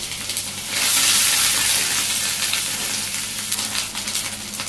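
Onion paste, ground green chili and cumin frying in a pan in a Bangladeshi home kitchen: a dense, close sizzle that swells briefly as the paste is stirred, then crackles on steadily.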